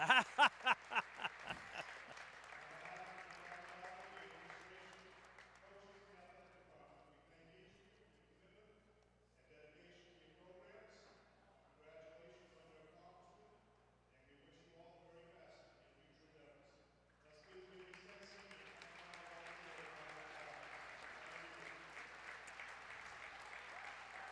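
A crowd at a high school boys varsity basketball game gives the seniors a standing ovation on their last home night, loud sustained applause and cheering at the start and again at the end, with an announcer's talk in the quieter middle.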